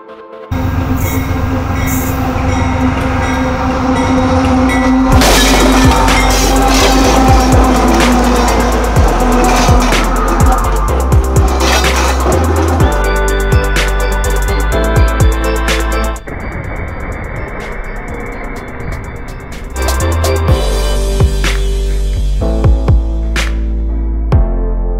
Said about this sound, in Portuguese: Olha lá, o trem tá vindo, hein?